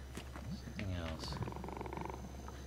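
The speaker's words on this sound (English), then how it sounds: "Yeah, there's like a really weird groan." A creature in the ZombiU video game lets out a weird, cat-like groan that rises and falls, fairly faint under steady background hum while people talk over it.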